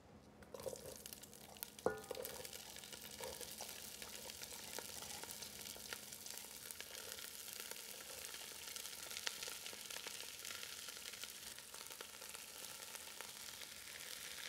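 Onions, carrots and celery fry in hot oil over medium-high heat, giving a steady, fairly quiet sizzle with faint crackles and one sharp clink early on.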